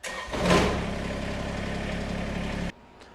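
A tractor engine cranks and catches, then runs at a steady idle for about two seconds before cutting off abruptly.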